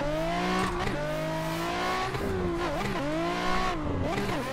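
Nissan 400Z drift car engine revving hard in rising and falling sweeps with tire squeal, loud and close throughout, no voices.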